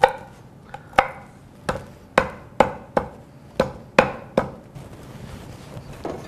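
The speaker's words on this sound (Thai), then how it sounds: "ผมจะใช้ตะไคร้ครับ ก็หั่นเป็นท่อนใหญ่ๆ" Lemongrass is chopped into large pieces on a cutting board, about ten sharp knife strikes landing at a steady, slightly uneven rhythm, close and clear with no talking.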